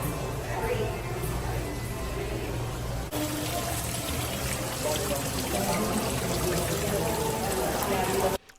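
Water pours and splashes continuously from above into a fish tank with a low water level, a steady, loud, broadband rushing and trickling that fills the whole stretch, with faint voices mixed in underneath.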